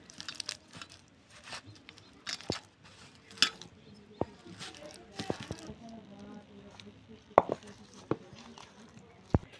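Dough being kneaded by hand with a ripe mashed banana and no water, giving soft squishing and patting sounds with a few sharper slaps, close up and irregular, someone talking intermittently over it.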